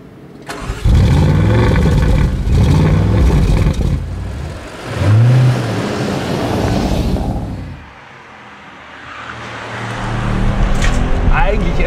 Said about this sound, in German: wenn du hier den Stempel durchdrückst, dann verdichten die beiden Biturbos da vorne wie ein schwarzes Loch